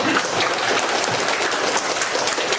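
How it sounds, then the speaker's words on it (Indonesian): A classroom of students claps for a classmate during a teaching session, a dense, fairly loud burst of many hands applauding continuously throughout, with no talk over it. "Baik, tepuk tangan buat"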